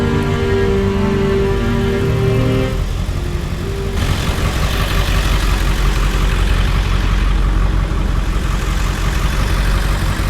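A truck engine idles close by with a steady, loud low rumble, its tone shifting partway through as other steady machinery noise joins in, with no voices.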